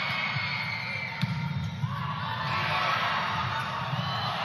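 Home crowd at an NC State women's college volleyball match cheers and roars loudly in an indoor arena, a steady wall of sustained crowd noise with a few sharp whoops and claps rising from it.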